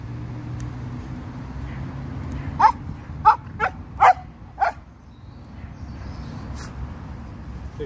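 A dog being given a haircut in a park barks five times in a quick, uneven series, fairly close and loud over a low rumble of distant traffic.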